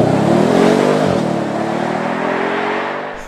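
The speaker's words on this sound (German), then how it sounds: "bei ihm grummelt es mächtig unter der Haube" A deep, rumbling V8 from an Audi S6 Avant estate, 4-litre eight-cylinder with 450 PS, droning steadily with a rising tone that gently fades toward the end, close and loud with no talk.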